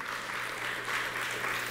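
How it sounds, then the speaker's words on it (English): Sustained applause from a church congregation fills the room, an even, dense clapping that continues without letup, with a faint low hum beneath and no speech. "let's give God a round of applause"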